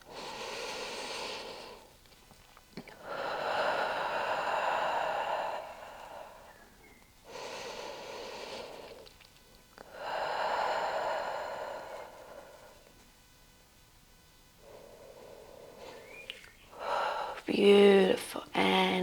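Deep, slow breathing during a yoga strength flow: long audible inhales and exhales in a steady cycle, close and fairly soft, with a brief louder rustle at the end.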